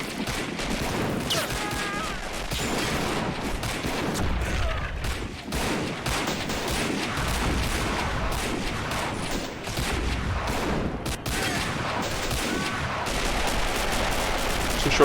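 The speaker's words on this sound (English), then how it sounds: "Exchanging fire from the grass." Dense, continuous volleys of gunfire with overlapping rapid shots and occasional heavier cannon booms, loud and sustained like a battle in the toy soldier game Army Men of War.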